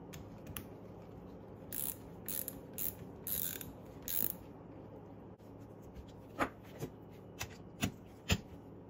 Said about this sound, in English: we'll just go ahead and tighten down this nut and then we'll torque it in the spec